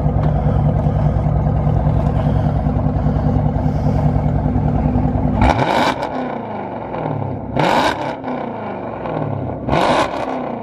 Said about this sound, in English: We're gonna get y'all some revs real quick.